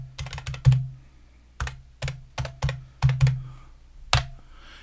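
Typing on a Mac computer keyboard, close and crisp, with quick clusters of keystrokes separated by short pauses, no voices.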